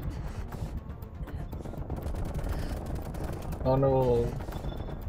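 Automatic gunfire in Call of Duty: Black Ops Cold War aimed at a VIP during an exfil, rapid bursts of shots under a speaking voice, with a sharper harsh burst near the end.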